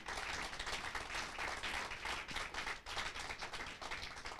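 A church congregation applauds steadily and loudly, a dense continuous wash of clapping with some taps and no break.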